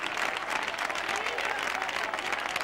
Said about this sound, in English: many of the crowd on their feet, applauding the couples here